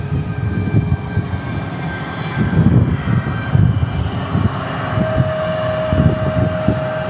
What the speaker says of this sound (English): Thank you for the Jet Blast, Sky West.